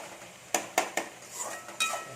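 Eggplant and tomato sautéing in a pan, with a few quick metallic clanks and scrapes of a ladle against the pan over a faint background hiss.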